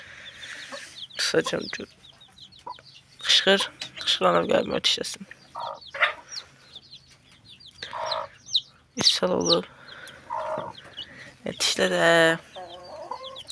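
Chickens cluck in short bursts around a hidden nest on a farm, the hens sounding stressed, with a close voice talking between the calls.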